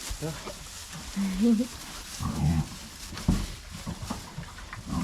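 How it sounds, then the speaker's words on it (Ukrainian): Piglets on a farm eating scraps and grunting in short bursts, some squeals and snuffles close by, with people talking over them. "Наші поросятка оплітають аж бігом."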